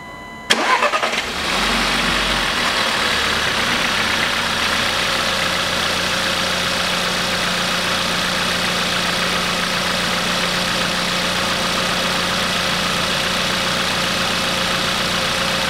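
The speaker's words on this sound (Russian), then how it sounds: "Запускаю двигатель." A Volkswagen Scirocco 1.4 engine cranks and catches with a brief loud burst, then settles into a steady, even idle that continues unchanged for the rest of the stretch.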